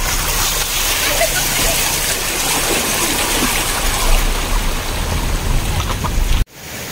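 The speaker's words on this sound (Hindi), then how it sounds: "पहाड़ों में से रोड पर ये पानी देखिए आप" Rainwater from a cloudburst in Uttarakhand pours off the mountains and across the road, a loud, close, continuous roaring rush with splashing that cuts off abruptly near the end.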